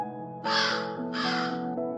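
Two loud, harsh crow caws in close succession, each a broad raspy burst over a steady tonal backdrop, from a children's animated story with a crow bringing small flowers.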